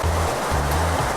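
Fluid flushing through the hose of a particle counter: a steady, close rushing water noise with a low pulsing hum underneath, continuous throughout.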